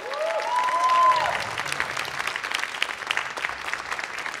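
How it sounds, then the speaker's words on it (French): A comedy-night crowd applauds the participants of a comedy contest, with a sharp rising whistle at the start over thick, sustained clapping that continues evenly to the end. "On peut les applaudir une dernière fois"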